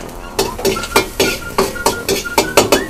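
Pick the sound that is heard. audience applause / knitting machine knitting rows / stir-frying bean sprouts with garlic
stir-frying bean sprouts with garlic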